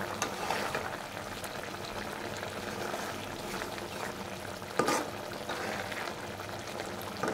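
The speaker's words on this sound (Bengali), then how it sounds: "ভেজে রাখা লইট্টা মাছগুলো দিয়ে দিচ্ছি" Fried loitta (Bombay duck) fish going into a pan of cooking masala, giving a continuous sizzling, bubbling hiss with a sharper splash-like burst near the end.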